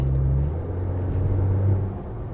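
An Audi A4 B8.5 S-Line with a pedal and transmission tune accelerates, a low droning engine rumble that rises slightly in pitch, heard from inside the car with no talking.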